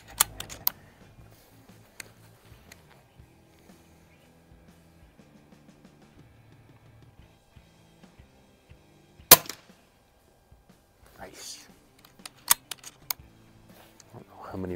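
A rifle fitted with a CVLife Jackalhowl 1-4x20 LPVO scope fires at a shooting range, giving a few sharp, isolated cracks spaced irregularly across the stretch, with faint clicks and handling noises in between.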